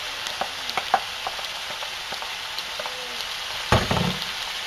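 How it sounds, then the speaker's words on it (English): Stirring white sweet corn, green onion and cilantro in a hot pan: a steady sizzle runs throughout with several scraping, clattering stir strokes, including a louder one near the end. "I'm going to stir this up."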